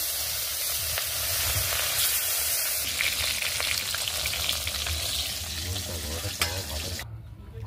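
Pieces of katla fish frying in hot oil in a wok, a loud, steady sizzle and crackle throughout, with a voice briefly heard over it before the sizzling drops in intensity near the end.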